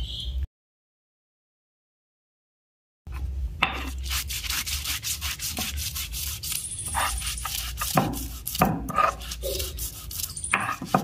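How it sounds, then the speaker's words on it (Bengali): Soaked soybeans being ground on a stone shil-bata: a steady, gritty rubbing and rasping of stone on stone in repeated back-and-forth strokes, close by, after a short silent gap. "এগুলো আমি এখন শিলবাটাতে পিষে নিব।"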